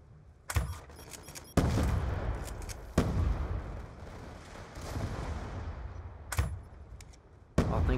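Gunfire in Call of Duty: Black Ops II, five sharp loud shots spaced irregularly, each followed by a long rumbling echo under a constant game ambience.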